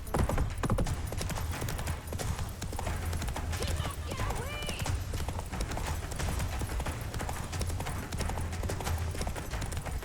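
Roach the horse gallops in The Witcher 3, rapid clip-clopping hoofbeats pounding steadily and loudly from start to finish, layered over dense rumbling game ambience with brief vocal-like fragments.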